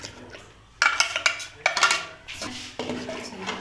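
A metal spoon scrapes and clanks against a large pot of semiya custard in bursts of close, bright knocks and scrapes, with liquid stirring between.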